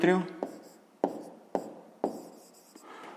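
A pen writes out a math answer by hand in short strokes, with four or five distinct scratchy taps spaced about half a second apart. A voice is heard briefly at the start.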